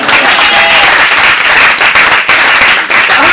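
A congregation at a church service breaks into loud, sustained applause, with dense clapping filling the space and a faint murmur of the crowd beneath it.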